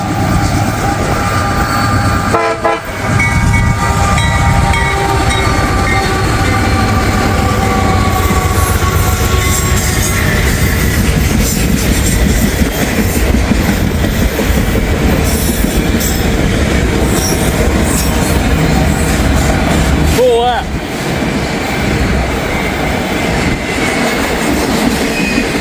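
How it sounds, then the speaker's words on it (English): A loaded freight train with auto racks rumbling past up close, loud and continuous, with rhythmic wheel clatter, squealing metal and a brief horn-like tone along the way. "We got a train coming."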